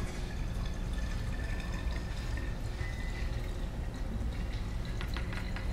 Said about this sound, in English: The water is pouring through the hexane to the bottom